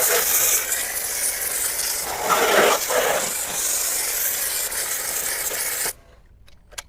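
A foam sprayer hisses steadily while coating a car in thick suds during detailing, a continuous loud spray that swells briefly partway through, then cuts off abruptly near the end, leaving faint clicks.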